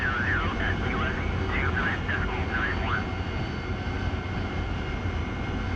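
A jet fighter spooling up for takeoff in the DCS World flight simulator, a loud, steady engine roar filling the whole stretch, with a radio voice speaking over it early on.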